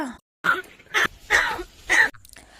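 Four short, rough, raspy coughing calls from a crow, evenly spaced with brief silences between them, fairly close.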